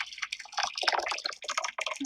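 Water splashes and trickles into a pot of washed rice being cooked, a close, bubbly pouring with small drips and no speech.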